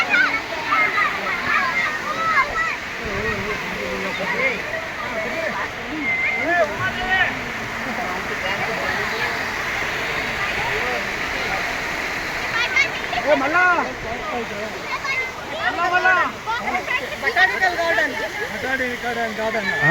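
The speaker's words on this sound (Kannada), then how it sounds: "ಇಲ್ಲಿ ಲೋಕಲ್ ಮಕ್ಕಳುಗಳು ನೀರಿನಲ್ಲಿ ಆಟ ಆಡ್ತಿದ್ದಾರ" Local children play and splash in water at the Mughal Garden in Kashmir, a steady wash of flowing, splashing water with children's voices and chatter mixed in throughout.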